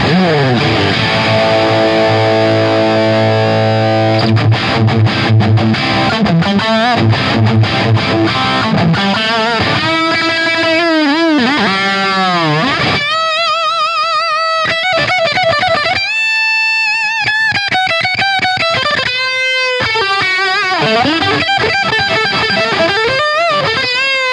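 Heavily distorted electric guitar on the humbucker, played loud through a cranked, dimed 1983 Marshall JCM800 50-watt tube amp, with chugging chords giving way to sustained, screaming bent notes and feedback-like squeals.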